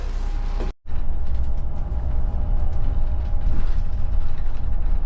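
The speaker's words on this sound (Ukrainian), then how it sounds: "Обкатуємо автобус, так би мовити, обкатуємо нашу нову техніку." An Electron electric city bus drives with a loud, steady rumble and rattling mechanical creaks from inside the cabin, briefly cutting to silence early on before the running noise resumes.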